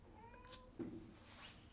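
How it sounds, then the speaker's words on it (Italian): Cats meow indoors during an art lesson, a drawn-out faint mewing call rising in the middle, with another soft meow toward the end, over quiet room noise and no talking. "ogni tanto appunto saltano fuori questi gatti che miagolano"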